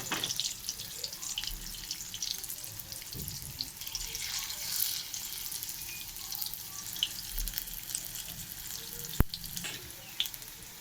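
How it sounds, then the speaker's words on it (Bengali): Steady crackling sizzle of food frying, with watery hiss and a few faint clinks over the sizzle, moderately quiet throughout. "ভাজা হচ্ছে দেখো"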